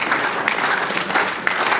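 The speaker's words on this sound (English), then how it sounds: "We'll have to keep clapping until they come out." Theatre audience applauding performers called back on stage for a final bow, a thick continuous clapping crowd with a few sharper individual claps standing out, steady and fairly loud.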